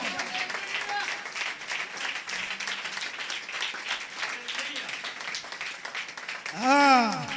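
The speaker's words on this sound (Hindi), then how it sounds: "अपने लिए जोरदार तालियां बजाएं।" A church congregation claps continuously under shouted voices, followed near the end by a loud, rising and falling whoop from one voice.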